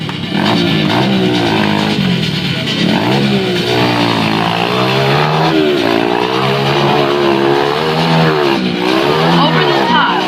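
Motorcycles racing inside a steel globe-of-death cage at a fair show, engines wailing in loud continuous overlapping revs that rise and fall as the riders loop close by.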